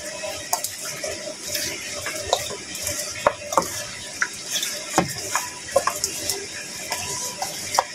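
Beef bhuna sizzles in a pot as a spoon stirs it, producing irregular scraping knocks and clinks over a low frying hiss, fairly close and without talk.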